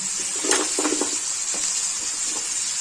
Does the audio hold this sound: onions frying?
yes